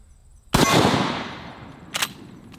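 A single loud, close rifle shot from a lever-action T-Rex rifle, a sharp blast with a long decaying boom, followed by a brief metallic clack of the lever.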